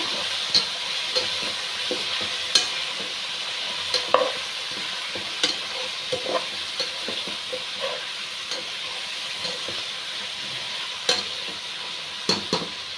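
Biryani masala frying in a pan as chilli powder is stirred in: a steady sizzle runs beneath frequent scraping clicks and taps of a spoon against the pan, close and fairly loud, with no talking.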